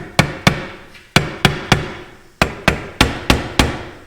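Sharp hammer taps seat a Honda CR500 engine part onto a dowel, about eleven crisp close strikes in uneven pairs and short runs, each decaying quickly, with no voices.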